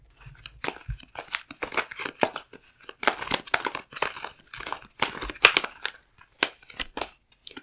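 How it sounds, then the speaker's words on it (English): Tarot cards spill from a deck with a close, crisp run of rustling, flicking and crinkling bursts in irregular clusters, no speech. "Oops, sorry, lots of cards falling out at once."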